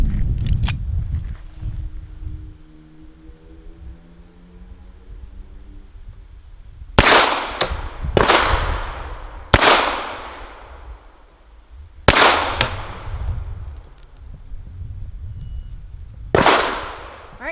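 A new-production Walther PPK/S pistol firing Inceptor 60-grain ammunition at a target: five sharp, loud gunshots spaced a second or more apart, each followed by a ringing decay, after a quiet stretch at the start.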